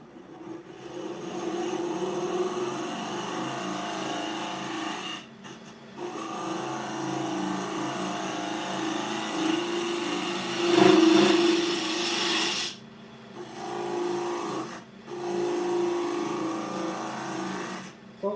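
A hollowing tool cutting into a piece of wood spinning on a woodturning lathe, a loud continuous rough scraping drone with a steady motor hum, broken by a few short pauses and one brief harsher swell near the middle.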